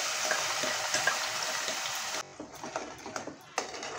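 Ground masala paste being stirred in a hot cooking pan with whole spices and green chili, a steady close scraping sizzle that grows sparser and softer toward the end.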